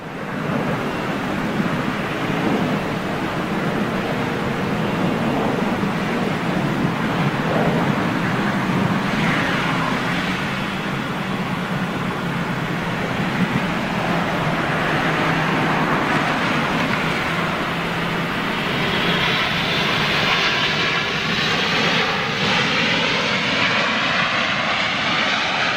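Etihad jet airliner engines roar steadily for a long stretch, a loud broad rumble with a rising whine that swells and sweeps through the second half, heard alone without talk.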